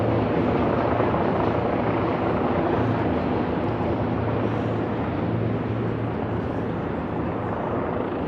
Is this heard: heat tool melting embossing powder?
no